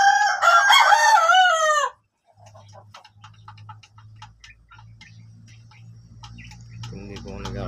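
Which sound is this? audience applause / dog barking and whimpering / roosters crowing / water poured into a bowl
roosters crowing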